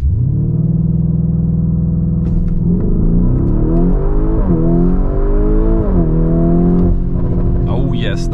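A 666 hp Lamborghini Urus Performante launches hard in sport mode during a 0-100 km/h run, its engine roaring loud and close as the revs climb through several quick gear changes, with no voices over it.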